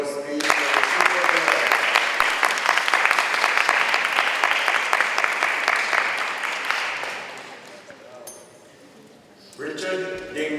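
Audience applause for a poet at a poetry reading, a loud, dense crowd clapping that tapers off around the eighth second, followed by a voice speaking.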